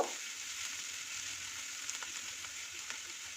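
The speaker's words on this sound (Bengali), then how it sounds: "পেঁয়াজ, রসুন, আদা ভাজা হয়ে গেছে।" Onion, garlic and ginger frying in a pan over low heat give a soft, steady sizzle with a few faint stirring clicks, quiet and close, no talking.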